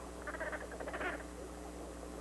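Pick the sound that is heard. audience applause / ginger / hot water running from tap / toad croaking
toad croaking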